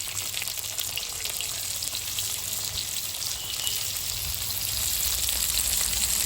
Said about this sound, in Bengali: পেঁয়াজ ভাজা হয়ে গেছে ভাজা ভাজা